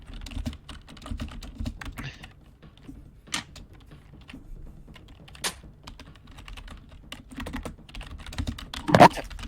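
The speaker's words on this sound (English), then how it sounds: "Oh no, they're typing a lot." Rapid keystrokes on a computer keyboard, clicking in irregular bursts with short pauses, close and crisp against a quiet background.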